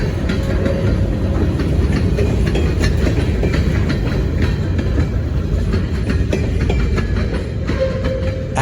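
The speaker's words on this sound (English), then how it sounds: "the LANL road train heads for the CSX interchange at Genesee Junction" A pair of ALCO diesel locomotives hauls a road freight train on rails near Genesee Junction in Rochester, New York, giving a loud, steady, close rumble with continuous wheel clatter throughout.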